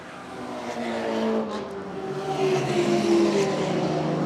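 A white and blue BMW race car passes on a circuit, its engine rising from moderate to loud with a strained, buzzing tone as it nears and goes by.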